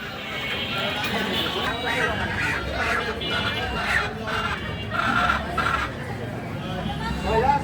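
Broiler chickens clucking and squawking at a market chicken shop, a busy, continuous flock sound mixed with crowd noise and people talking throughout.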